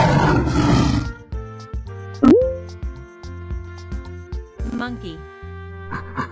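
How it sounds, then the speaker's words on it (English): A single loud lion roar bursts out at the start, then gives way to bright, bouncy music, with a voice speaking briefly over it. "Lion."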